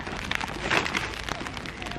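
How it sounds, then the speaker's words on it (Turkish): Rain falls on outdoor surfaces as a dense, steady patter of droplets with scattered sharper taps. It sounds fairly close and no voices come through. "hava yağmurlu"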